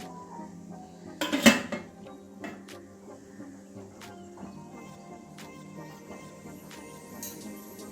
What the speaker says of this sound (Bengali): আর একটু ঢাকা দেব, কারণ একটু নরম লাগছে, আর একটু শক্ত হবে।